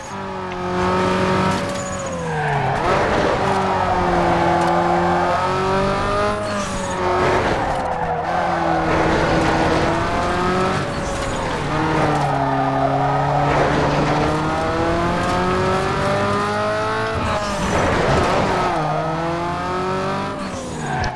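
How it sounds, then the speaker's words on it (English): In the Need for Speed: Underground 2 racing game, a car engine wails and tires squeal in repeated skids, with loud rising and falling pitch sweeping through a continuous race soundscape. "Use handbrake to turn."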